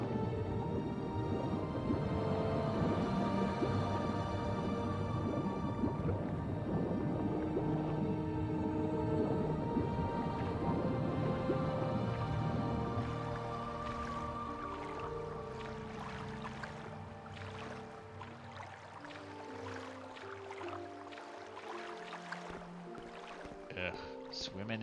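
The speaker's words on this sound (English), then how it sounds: "swimming in sewer water" A player swims through sewer water in a video game, with sloshing, gurgling water movement and a low droning hum under layered tonal game ambience that thins out and grows quieter in the second half.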